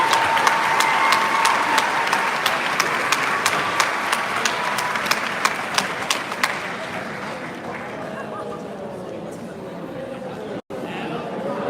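A high school graduation crowd in a hall gives the 2022 graduating class sustained applause with whoops and cheers, loud and dense at first and then thinning into scattered claps and chatter.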